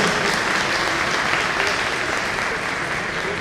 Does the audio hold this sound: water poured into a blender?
no